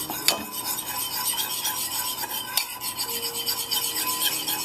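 Tomato rice with a splash of balsamic vinegar is mixed in a pan, a steady scraping and rubbing of a spoon against the pan over a faint sizzle, with a couple of sharper clinks.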